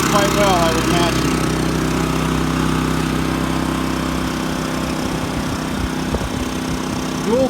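A Champion 3400 watt dual fuel inverter generator runs with a steady engine drone heard close up at its exhaust, about a foot and a half away, with someone talking over it.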